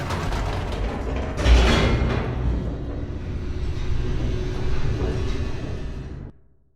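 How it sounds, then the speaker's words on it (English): An elevator plunging downward in The Stanley Parable: a loud mechanical rumble with creaking and rattling, a sharp jolt early on, then a sustained roaring descent that cuts off abruptly near the end. "The elevator raced downward, plummeting towards an unknown fate"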